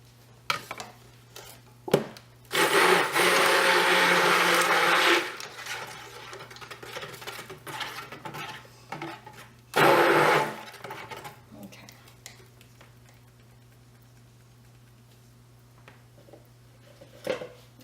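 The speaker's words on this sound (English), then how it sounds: "I'm just going to barely whip this with the blender just for a few seconds" Two loud bursts of a whirring blender whipping a soap mixture, roughly two and a half seconds then two seconds, with quieter clinks and handling noises between them.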